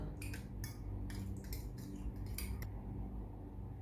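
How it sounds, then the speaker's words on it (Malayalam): A metal fork clinks and scrapes against a bowl in several quick bursts of mashing curd, then falls quiet, with no talking. "ഒരു ഫോർക്ക് വെച്ചിട്ടൊന്ന് ചെറുതായിട്ട് ഉടച്ചെടുത്താൽ മതി"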